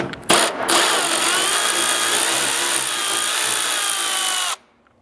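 A power tool with a 12mm socket spins out a hood mounting bolt on a 4th-gen Toyota Tacoma, giving a brief start, then a steady loud whirring whine for about four seconds before stopping, with no talking.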